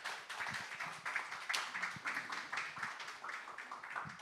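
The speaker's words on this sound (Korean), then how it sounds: "박수로 맞아주십시오" An audience at a church thanksgiving service claps to welcome a venture-pioneer speaker to the stage, a moderate scattered clapping from a modest crowd, steady and slightly distant for about four seconds.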